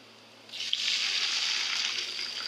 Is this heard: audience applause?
no